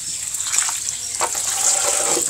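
Water pours steadily into a tank at a magur catfish fry farm in Bangladesh, a continuous close splashing stream with no talk over it.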